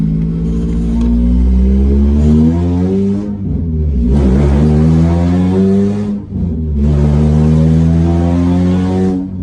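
A car with a big-tube header on an H22 engine revs loudly and close by in three long surges, pitch climbing with each push, briefly dropping between bursts.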